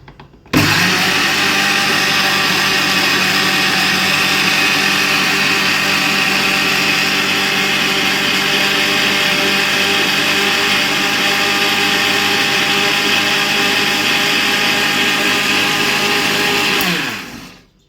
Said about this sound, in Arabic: هنشغل الخلاط على الهادي خالص كده، مش هنسرع